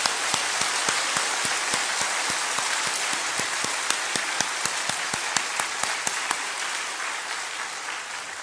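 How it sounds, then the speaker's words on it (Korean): A church congregation at an Easter union worship service in Ulju County gives loud, sustained applause, a dense wash of many hands with sharp individual claps standing out, fading slightly toward the end. "우리 다 같이 큰 박수로 우리 주님께 영광과 찬양을 돌리십시다"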